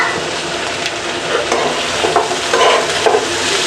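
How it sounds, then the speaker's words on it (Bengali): Mixed vegetables cook in a covered-then-opened pan, giving a loud, dense sizzle throughout, with several scraping stirs of a spoon breaking through at irregular moments. "সবজিটা একটু নাড়াচাড়া করে দিব"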